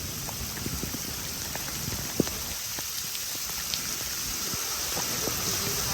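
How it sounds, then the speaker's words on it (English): Steady rain patters all around, with scattered drops tapping nearby surfaces over a constant hiss; no voices. "I'm just enjoying the rain today"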